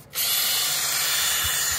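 A power drill whirs up abruptly and runs at a steady high-pitched whine, loud and close, without voices.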